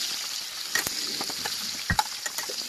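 Chopped onion frying in hot oil with nigella seeds, a steady bright sizzle broken by a few sharp crackles and stirring knocks, close by.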